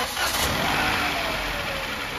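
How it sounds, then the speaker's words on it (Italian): A car engine with a suspected faulty lambda sensor or catalytic converter catches and settles into a steady, close idle, a continuous low rumble with no voices. "tiriamo giù la macchina, mettiamo in moto, la scaldiamo"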